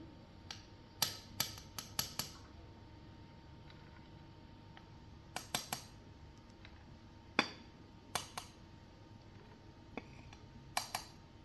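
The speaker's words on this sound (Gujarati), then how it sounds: "4 ચમચા ચણાનો લોટ નાખશું." A spoon scoops gram flour into a bowl of cooked leftover rice for rice muthiya, giving scattered light taps and clinks against the container amid quiet kitchen stillness.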